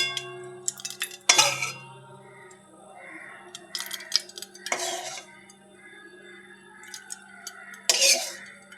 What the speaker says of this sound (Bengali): এবার কড়াইতে কিছুটা মাছ ভাজার তেল তুলে রাখবো।